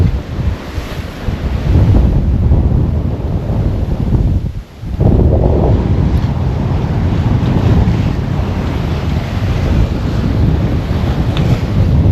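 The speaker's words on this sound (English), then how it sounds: "I wasn't expecting this wind." Strong, gusty wind of 20 to 30 knots sweeps across a sailboat at sea off Grenada. It makes a loud, steady roar over breaking waves and hull wash, with a brief lull partway through before the blast returns.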